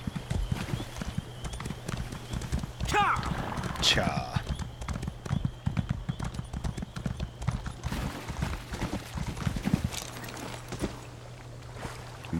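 Horse hooves clip-clop in a steady, close rhythm while riding over water in Elder Scrolls Online, with a brief whinny early on and a person talking over the hoofbeats.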